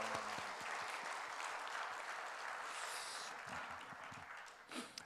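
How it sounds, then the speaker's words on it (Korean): Congregation clapping in a church during a revival service, a steady wash of many hands over 5 seconds that tapers slightly toward the end, heard without speech. "큰 박수로 영광을 올려드립니다"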